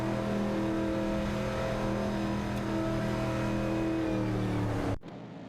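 Race cars, a Dodge Challenger and a Ford Falcon, in a racing video game: steady loud engine drone with layered harmonic whine that shifts slightly in pitch, held for about five seconds before cutting abruptly to near silence.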